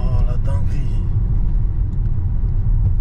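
Strong low rumble of a tuned, Stage 2 BMW 535D diesel accelerating, heard from inside the cabin with voices and laughter over the steady engine drone.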